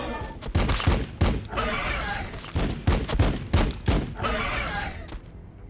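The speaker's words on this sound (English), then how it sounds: "Firing on the enemy." A battle in Warhammer 40,000: Battlesector rings with volleys of gunfire, several loud, punchy shots and rapid bursts rising over a constant roar of combat, some shots landing close together.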